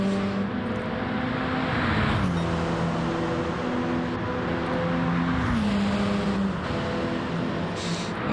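A race car in a sim racing league event, its engine a loud, continuous drone that rises and falls in pitch as the car slides sideways, with no talk.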